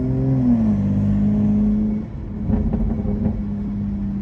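Car exhaust burbling and rumbling steadily while driving in sport mode on a northern Colorado road, a loud low drone that shifts pitch around two seconds and then carries light crackling pops.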